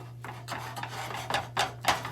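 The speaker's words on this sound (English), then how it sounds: "We got a nice little cook there, so we're gonna stir that up." A spoon scrapes and rubs through cooked, sticky white rice in a pot over a low flame, giving several soft rasping strokes at an uneven rhythm, close and fairly quiet over a steady low hum.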